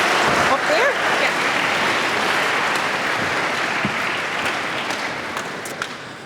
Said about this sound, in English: You give her a big round of applause.